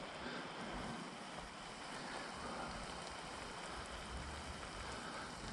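Steady, even hiss of water spraying, like a hose or watering can pouring continuously onto plants and soil.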